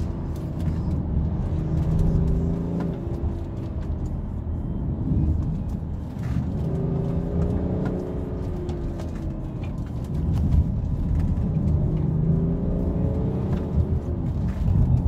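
BMW X5 with a six-cylinder engine accelerating: a steady, full engine drone heard from the cabin, rising and falling in pitch through several gear changes in repeated sweeping surges.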